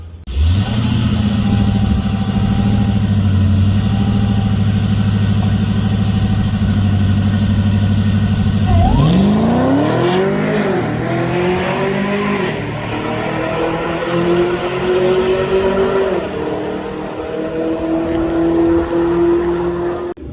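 A drag race car idles with a steady, deep engine drone, then launches hard down the track. The engine note rises and sweeps upward as the car pulls away, loud and close throughout.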